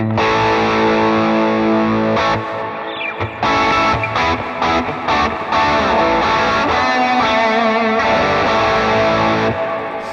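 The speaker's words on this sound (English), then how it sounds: "it's a lot of reverb on there." Electric guitar played through a Valeton GP-200X multi-effects processor with excessive reverb rings out in sustained, washy chords and notes, loud and close, the tails blurring each phrase into the next, with a distorted edge.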